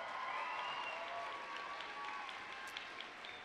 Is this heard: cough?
no